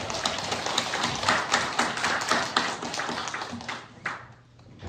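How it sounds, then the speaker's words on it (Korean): Church congregation applauding during a Sunday worship service, a dense run of many hands clapping that fades out near the end, with faint voices underneath. "하나님께 영광의 박수 올려드립니다."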